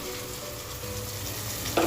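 Spice paste for chicken pulav, mixed with curd, frying in a hot pan, a constant close sizzling hiss with a stirring clatter near the end.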